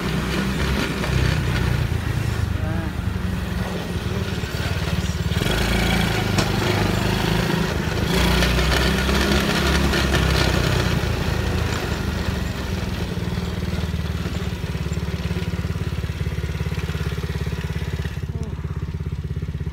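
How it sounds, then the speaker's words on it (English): An ATV engine runs steadily throughout on a late-night ride, a continuous loud mid-low drone with slight variations in pitch and no one speaking. "We drove the ATV home tonight."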